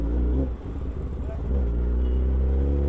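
Kawasaki ZX-10R motorcycle engine rumbling steadily at idle or low revs in evening city traffic on the way to Bandra Reclamation, loud and close throughout.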